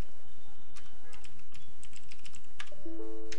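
Rapid, close keystrokes tap on a computer keyboard in uneven bursts, with a few short electronic tones near the end.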